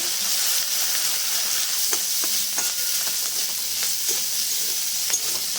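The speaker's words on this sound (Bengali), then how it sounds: "এইভাবে মাছগুলো ভাজা হয়ে গেছে" Small prawns fry in hot oil with a constant, bright hiss and sizzle, close and loud, broken by scattered light pops and stirring taps.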